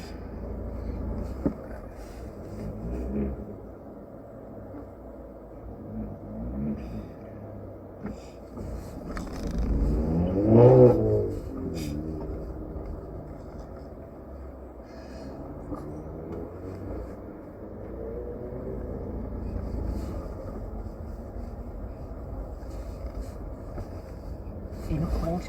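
A car driving on a mock driving test route in Isleworth, with a low, steady road and engine rumble that continues under ongoing conversation inside the vehicle and swells briefly about halfway through.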